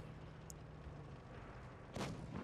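A tank cannon shot in World of Tanks Blitz lands as one sharp, fairly faint blast near the end, with a smaller echo just after it, over a low game hum.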